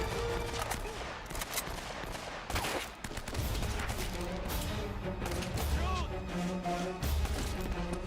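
Bursts of rapid gunfire and impacts ring out during a firefight in the Uncharted: Drake's Fortune treasure vault on brutal difficulty, dense and continuous, while a voice talks over the action.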